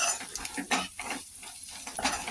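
Spatula stirring fried onion with turmeric, coriander powder and red chili powder in a pan for stuffed capsicum filling, giving irregular scraping and clinking strokes over a low sizzle, close and moderately loud, with no talk.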